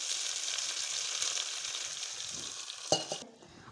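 Hot tempering of mustard seeds and curry leaves tipped into a ground onion chutney, giving a steady crackling sizzle with stirring, a sharp pop near the end, then quieting, with no talking.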